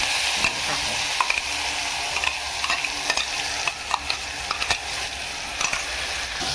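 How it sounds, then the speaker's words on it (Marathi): Ground spice paste fries in hot oil with asafoetida and turmeric for a Maharashtrian dahi kadhi, a steady close sizzle broken by frequent sharp clicks and scrapes of stirring, with no voices. "तेलात चांगलं परतायचं."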